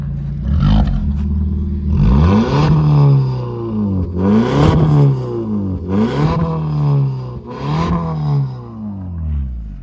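A Maruti Ertiga with its muffler removed and a straight-pipe exhaust run straight from the engine, revving loudly in repeated bursts, roughly four rising-and-falling blips close to the microphone with a steady rumbling idle between them.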